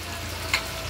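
Paneer cubes lightly frying in a pan, a continuous close sizzle of hot oil with a brief louder crackle partway through, no talk.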